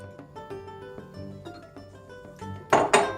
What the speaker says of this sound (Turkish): mısır ekmeğimizi pişirmek için şöyle yuvarlak borcam bir tepsi kullanacağız